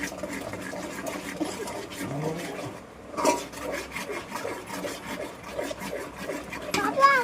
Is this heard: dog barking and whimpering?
no